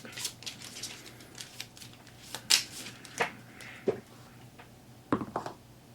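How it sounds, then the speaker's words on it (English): A deck of cards for the Slay the Spire board game is shuffled by hand on a tabletop, giving soft riffles and sharp snaps in scattered bursts, quiet and close. "shuffle my deck up"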